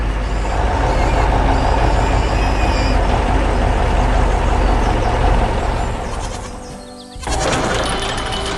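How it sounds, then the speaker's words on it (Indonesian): A white truck rumbles steadily over rough, hard ground on a farm, a loud continuous engine drone that drops briefly before surging back. "Truk putih sedang melintasi medan yang keras."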